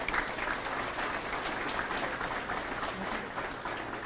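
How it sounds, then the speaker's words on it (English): Banquet audience at a high school all-sports banquet applauding the cheerleading team, a steady, dense wash of clapping from a large room that holds evenly for about four seconds, with no speech over it. "Give them a round of applause."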